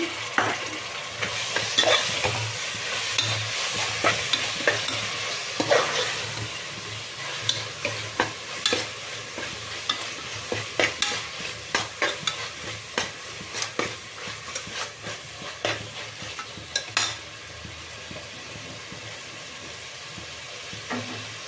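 Tomatoes and ginger garlic paste fry in a pot for a mutton pepper fry base, giving a long steady sizzle broken by repeated scraping stirs, close up with no talking.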